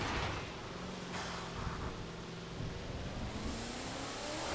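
Engine of a maxed-out Shelby 1000 in Forza Horizon 4 droning steadily under gentle acceleration, a continuous mid-pitched tone that rises gradually, loud and close with no talking.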